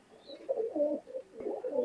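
Pakistani pigeons coo in close, soft rolling bursts, with several throaty phrases in quick succession and no talking.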